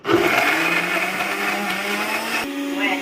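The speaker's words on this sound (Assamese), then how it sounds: "মই আজি নভজাকৈয়ে চাটনিটো পিচিম।" An electric blender grinds raw, unfried tomatoes and garlic into chutney, starting abruptly with a loud, steady whir. Its pitch jumps upward near the end as the load changes.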